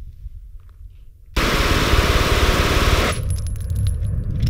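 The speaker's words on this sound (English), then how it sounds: "Because I'm gonna do a pretty long mag dump, I'm gonna kind of accentuate my movement." Glock 18 machine pistol fired on full auto, dumping a 30-round magazine in one continuous loud rapid burst of shots lasting close to two seconds, followed by ringing and outdoor ambience.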